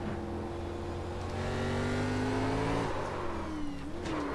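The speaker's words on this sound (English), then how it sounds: "And you could definitely hear when that car was about to step out." Heard from a cockpit camera, a race car engine at a short oval bullring track holds a loud, steady high-pitched drone, rising slightly in pitch, then dips and climbs again briefly near the end.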